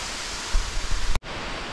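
Broad steady rush of water at Tad Hoi Khua waterfall, roughly 50 metres high, heard close and loud with a brief dropout near the end.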